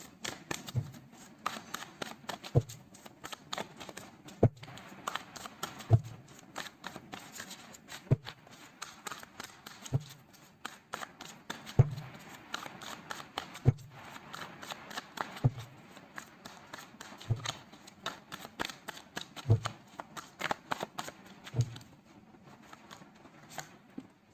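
Tarot cards are shuffled by hand in a quiet room, a soft continuous riffling patter broken by regular sharp taps roughly every two seconds, fairly faint and close, with no talking over it.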